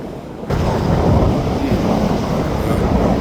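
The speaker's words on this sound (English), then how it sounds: "The SRY's rack train is coming through nicely" A rack train on the SRY rumbles steadily over a bridge, a loud continuous low roar that starts abruptly after a quiet half second and holds close throughout.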